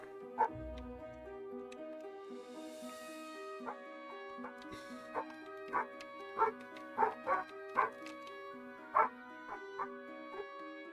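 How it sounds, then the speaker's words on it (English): Dogs bark repeatedly in sharp, separate yaps from somewhere nearby, rising over steady electronic game music, with the barks clustering toward the middle of the stretch. "Man, the dogs are loud today."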